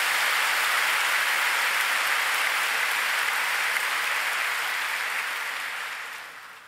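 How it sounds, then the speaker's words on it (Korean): A large church congregation applauds in a dense, sustained wash of clapping that holds steady, then fades out toward the end. "저기 외국에서 온 분들 위해서 한번 뜨거운 박수 쳐주세요."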